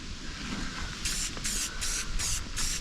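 Short bursts of Rustoleum metallic spray paint hissing from a can, five quick rhythmic sprays in a row over a steady background hiss, close and moderately loud.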